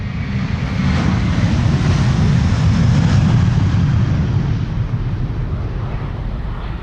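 A Delta Air Lines airliner, Flight 161, roars down the runway on takeoff from Amsterdam Schiphol Airport, a loud, continuous engine rumble that swells and holds steady throughout.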